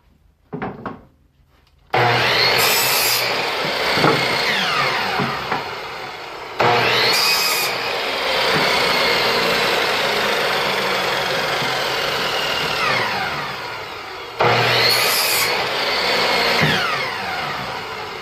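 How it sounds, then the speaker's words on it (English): Power saw cutting wood pieces at a 30-degree angle for a homemade bike rack, three loud whining cuts that each start abruptly and drone for several seconds, with the blade spinning between passes. "You just slide the piece of wood in, that's the exact distance from the blade, and you can cut away."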